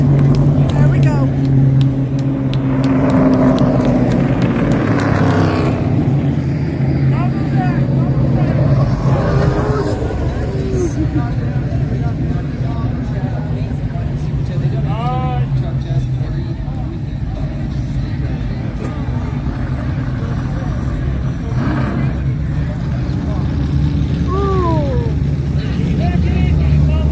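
A super late model race car engine roars steadily at close range with a loud, sustained low drone, while a crowd murmurs and voices talk over it throughout.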